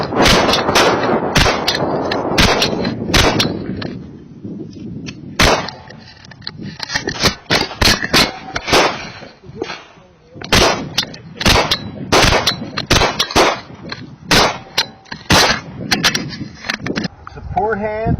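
Pistol shots fired at targets one-handed with the support hand, a Viridian XTL weapon light with camera fitted, sharp loud cracks in quick pairs and clusters with metallic rings, while a man gives range commands.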